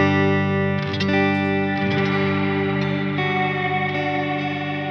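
Sustained electric guitar chords drenched in shimmering reverb from a Strymon pedal with glimmer harmonics, with bright high harmonics ringing above and long washy tails between strums.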